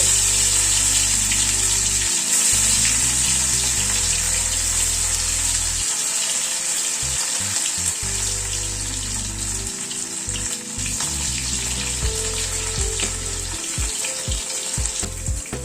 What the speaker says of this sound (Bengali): তেলটা গরম হওয়ার পরে একটা একটা করে ধোকা ছেড়ে দিচ্ছি।